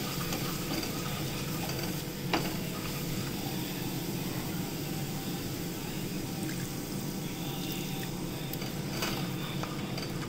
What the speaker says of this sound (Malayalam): പാലും കൂടെ ചേർത്ത് നന്നായിട്ട് ഇളക്കിയെടുക്കാം.